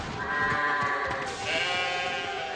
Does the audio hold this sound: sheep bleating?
yes